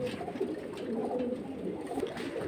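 Pet pigeons coo in a steady, low murmuring chorus that runs continuously and close at hand, with no voices over it.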